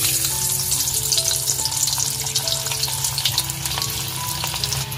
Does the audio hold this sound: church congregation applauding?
no